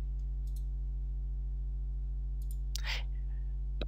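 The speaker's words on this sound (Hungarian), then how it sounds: "Klikkeljünk az érintési pontokra." Computer mouse clicks while drawing in AutoCAD 2013, a few sharp, faint taps against a steady electrical hum, with one louder burst of handling noise in between.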